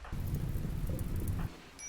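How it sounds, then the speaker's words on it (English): Rain falling in the RimWorld video game, a dense, loud rushing downpour with low rumbling that cuts off abruptly after about a second and a half, leaving a faint tail. "Oh, some rain."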